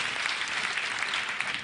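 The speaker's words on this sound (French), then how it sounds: "Applaudissements." Studio audience applause on a French TV game show: a dense, steady burst of clapping filling the whole moment, loud and even, with no voices over it.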